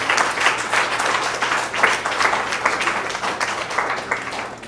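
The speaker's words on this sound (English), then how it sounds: "let's give a hand of applause to this great lady" Applause for a woman at a mental hospital donation event, a steady wash of many hands clapping at moderate level for several seconds with no talk over it.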